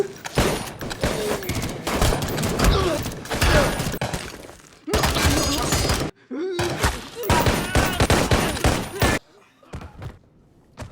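A gunfight in a gangster action film, with guards and prisoners exchanging fire. Loud bursts of rapid shots come in several separate volleys with short breaks between them.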